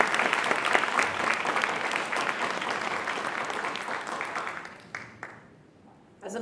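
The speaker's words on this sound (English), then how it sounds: "Another round of applause for Dr. Angela Davis." A lecture audience applauds Dr. Angela Davis with a loud, sustained wash of many clapping hands that thins out and fades near the end, leaving a few scattered claps.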